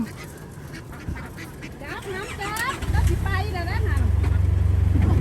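Ducks being delivered to Pakse in southern Laos quack in busy, overlapping calls against a steady engine drone that grows louder in the second half.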